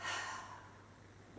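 A deep inhale during a yoga session: one soft, breathy intake of air, close and quiet, fading over about a second.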